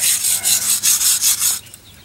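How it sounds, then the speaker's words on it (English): A wire brush scrubs the hub area of a 1997 Dodge Ram 1500 steering knuckle in about six quick, close, harsh back-and-forth strokes, then stops. "I'm going to wire brush in the side here where the hub goes"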